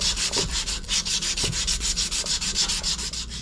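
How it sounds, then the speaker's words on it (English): Steady back-and-forth sanding of a metal pipe on an AAON water source heat pump, rhythmic rasping strokes at an even pace, close and clear with no talking. "let's sand down the pipe in the area I'm gonna cut"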